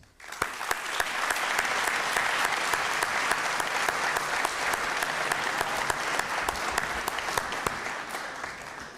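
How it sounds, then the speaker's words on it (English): At a high school senior awards night, an audience breaks into steady, full applause that holds evenly for several seconds, with a few sharp individual claps standing out and no speech over it. "join me in a round of applause for the leaders of this evening, your families."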